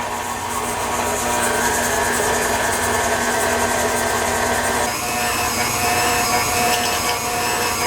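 A stand mixer creams room-temperature butter with granulated sugar for vanilla cake batter, a steady loud motor whir with scraping, rubbing texture that shifts slightly in tone midway, continuous with no talk.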